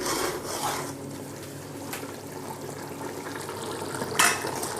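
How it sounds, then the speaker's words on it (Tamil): A spoon stirs chicken dum biryani in a dabara pot, producing soft scraping and rubbing with a faint sizzle beneath and a couple of sharper clinks of metal against the pot, heard close with no talk. "ஒரு வாட்டி கூட மிக்ஸ் பண்ணிக்கலாம்."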